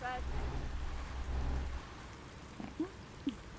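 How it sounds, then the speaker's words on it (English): Steady rainfall in Euro Truck Simulator 2 with a low rumble of thunder early on, followed by a few scattered louder drops or taps. "I love the thunder sound when you're in this view too, when it's raining"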